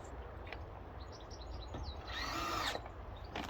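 A power drill drives screws while a washing line is put up, giving one short whirring burst in the middle over quiet background noise, with faint taps before and after.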